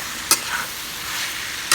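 Spicy beef stir-fry (oseng daging sapi) sizzling in a pan over moderate heat, with a steady frying hiss and two sharp utensil scrapes as it is stirred, heard alone.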